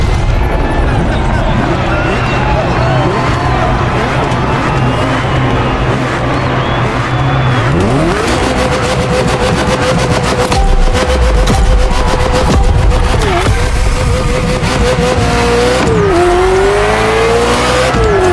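A Ferrari F40 in The Crew Motorfest racing game revs and shifts gears continuously, with engine notes rising and falling and bursts of tire squeal throughout. A voice talks over the engine in places.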